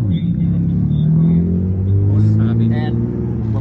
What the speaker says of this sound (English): Why this car is loud? Custom exhaust.